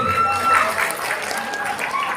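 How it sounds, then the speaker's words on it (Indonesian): Crowd applause for the jury at a Betawi dance festival in Jakarta, a continuous wash of clapping with scattered cheers throughout, heard at moderate distance. "Tepuk tangan buat dewan juri ya tadi."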